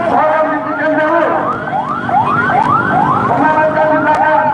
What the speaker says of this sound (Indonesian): Dan ada ambulan di belakang.